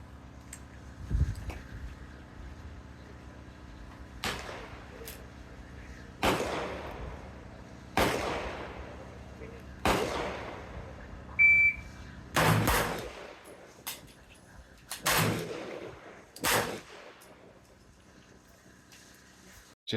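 Thor's pistol, a heavy prototype double gun, fired at a shooting range: about nine sharp, loud reports at irregular intervals, each with a long ringing decay, and no talking.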